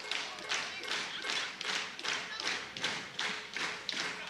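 Crowd in an esports arena at a League of Legends match clapping and stamping in a steady rhythmic beat, roughly two claps per second, loud and continuous, with faint voices underneath.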